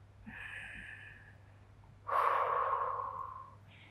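Breathing during cool-down stretching after a run: a soft nasal inhale, a pause, then a louder, longer sighing exhale up close.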